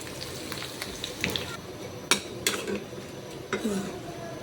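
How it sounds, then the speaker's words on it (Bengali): Potatoes frying in a pan for a home-cooked dish, a steady close sizzle with a few sharp clinks of a utensil against the pan scattered throughout. "তো দেখতেই পারতেছেন আলুগুলা কি সুন্দর ভাজা হচ্ছে।"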